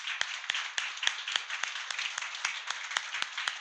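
An audience claps steadily, many hands blending into a dense patter with a few sharper individual claps standing out, no voices.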